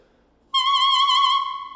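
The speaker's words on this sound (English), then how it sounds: "So here's a clarinet." A single sustained clarinet note begins abruptly after a brief quiet moment and holds steady with a slight wavering, then fades a little at the end.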